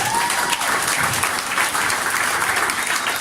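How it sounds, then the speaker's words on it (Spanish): An Assemblies of God missionary church congregation applauds, a dense, steady wash of many hands clapping at once, loud and sustained without pause. "Aplauso para ustedes."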